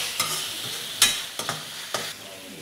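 Ginger garlic paste frying in hot oil for an aloo kurma while a spoon stirs it, giving a soft steady sizzle broken by several sharp scraping clinks against the pan, close and alone with no voices.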